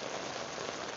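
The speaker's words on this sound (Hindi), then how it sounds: "इस वक्त तेज़ बारिश होते हुए और लाइव अपडेट्स आप देख रहे हैं" Heavy rain falls in Karachi as a steady, dense hiss of drops striking surfaces, unbroken and fairly loud throughout, with no voices.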